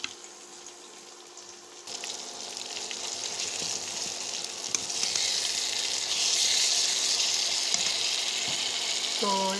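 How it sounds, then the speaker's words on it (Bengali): Onion, tomato, green chilli, cumin and garlic paste frying in a pan, a steady close sizzle that swells louder partway through, with a brief voice at the very end. "তো এবার এটা সুন্দর করে ভাজা ভাজা করে নেব।"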